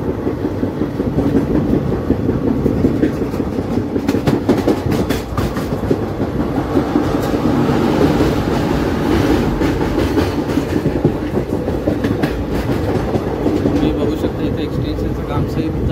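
A Delhi to Pune special express passenger train rolls on its rails, heard from aboard as a loud, steady rumble with a running clickety-clack of wheels over joints that continues throughout.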